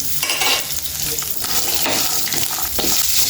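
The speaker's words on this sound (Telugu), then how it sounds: "చూడండి ఇట్లా అన్ని మనం మంచిగా ఫ్రై చేసుకోవాలి" Garlic and ginger pieces fry in a pan for a stuffed brinjal curry, giving a loud, steady crackle with scraping stir strokes throughout.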